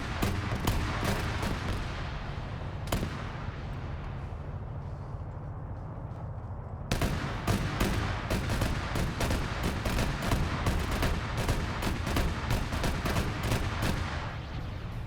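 MP7 gunfire in a PvP shooter video game, loud rapid bursts of sharp shots, a fast volley, a short pause, then a long sustained string of rapid fire.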